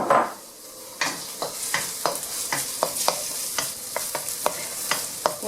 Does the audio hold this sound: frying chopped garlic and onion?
yes